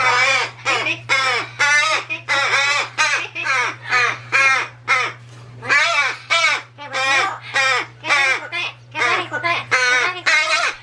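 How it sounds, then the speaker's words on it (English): A female crow caws over and over in a rapid, loud series of harsh calls from close by inside an indoor cage at a bird rescue, with a steady low hum running underneath. "a female crow"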